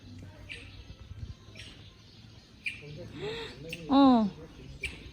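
A single bird chirps briefly with a few short upward-sweeping calls, heard close above a low background hum and faint activity.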